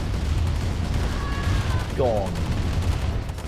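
In the real-time strategy game Command & Conquer: Tiberian Dawn, combat bikes fire on tanks in a quick, dense patter of small battle shots and impacts, with a commentator talking over the action.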